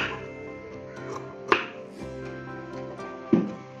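Scissors cut away the extra fabric from a stitched cigarette pant, giving two crisp close snips over quiet rustling of cloth, with no talk.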